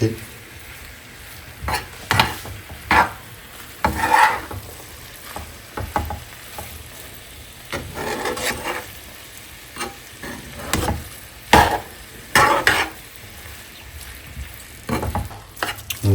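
A Punjabi kulcha filling is mixed with salt and chili by hand or spoon, giving intermittent scraping, stirring strokes in uneven bursts against a quiet kitchen background.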